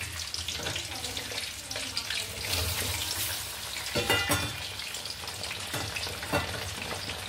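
Small whole garlic cloves sizzle and fry in oil in a pan, a steady crackle with a few louder pops and stirring scrapes near the middle, fairly quiet and close, with no talking.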